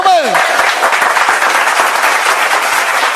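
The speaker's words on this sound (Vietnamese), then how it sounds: "Chúng ta cùng dành những tràng pháo tay nồng nhiệt để chào mừng." Guests applaud warmly at a wedding ceremony, a steady, loud wash of clapping throughout, with a brief whistle-like tone at the very start.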